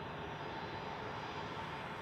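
Air Serbia airliner at Zurich Airport, a brief, steady broadband engine roar, faint and continuous with no voices.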